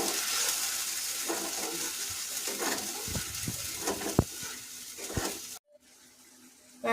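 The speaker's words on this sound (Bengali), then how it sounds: "পোস্ত দিয়ে একসাথে করে নিয়ে এবার তেলের পর ছেড়ে দিলাম।" Poppy seed paste frying in oil for a pabda fish curry, a hissing sizzle with uneven knocks and scrapes of stirring, close by, ending in a sudden cut to near silence.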